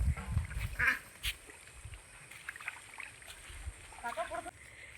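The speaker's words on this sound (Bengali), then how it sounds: "কি সুন্দর হাঁসগুলো দৌড়ে দৌড়ে বাড়ি যাচ্ছে দেখো।" White ducks heading home from a village pond quack several times, fairly close, under a person talking over the outdoor background.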